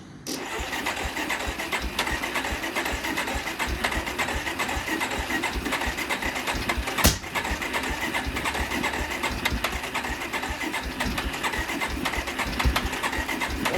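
An ATV engine cranks and runs roughly on a small auxiliary fuel supply, heard as a loud, continuous, close mechanical rattle that holds steady throughout, with one brief knock midway.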